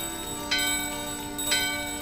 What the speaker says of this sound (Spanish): Vamos a tocar la campana que traigo.